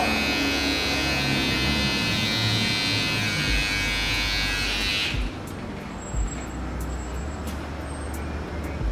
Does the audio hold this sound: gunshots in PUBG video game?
no